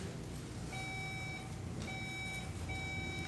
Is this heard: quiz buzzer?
yes